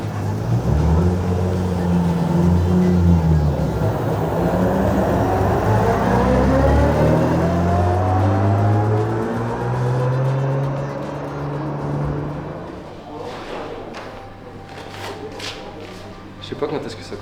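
Ginetta G56 GT4 race cars scream past on a circuit, their loud engines sweeping up and down in pitch over several seconds before fading, with later clicks and handling noises nearby.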